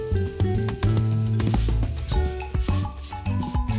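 Steady sizzling of snails frying in a pan with ripe tamarind juice, with occasional clinks and scraping of a utensil, loud and close throughout.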